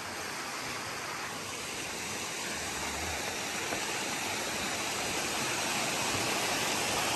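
Rushing water roars in a constant, broad hiss, like a river tumbling over a waterfall, steady and unbroken.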